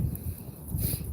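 Wind buffeting a microphone outdoors on a cold, sunny day, a steady low rumble with gusty swells, no voices.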